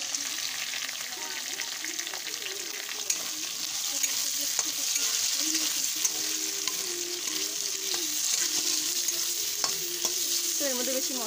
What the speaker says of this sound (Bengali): আলুটা হালকা ভাজা হয়ে গেছে, এবার আমি দিয়ে দেবো কাঁচা লঙ্কা